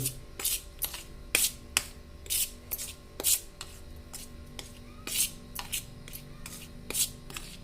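Sweet potato pieces tossed with salt by hand for a fry: repeated bursts of rough rubbing and shuffling, close and fairly loud, in an uneven rhythm with short pauses between.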